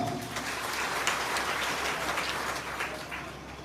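A crowd claps loudly at an election rally in Mahmudabad addressed by a cabinet minister: a sustained wash of applause with no speech over it.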